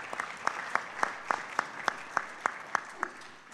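At a barbershop conference, an audience gives slow, rhythmic clapping, with sharp claps landing at regular intervals over a soft background of scattered hands, fairly faint and heard from a distance.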